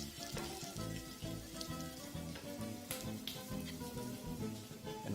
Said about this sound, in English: continue to fry your onions just until they start to go translucent